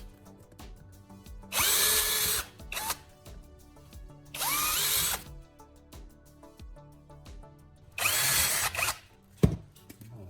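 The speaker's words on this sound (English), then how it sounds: "drill several small holes around that area on the lamp base" A power drill bores small holes into the plastic base of an old LED bulb, in three loud whirring bursts of a few seconds each separated by quieter pauses, with no talk.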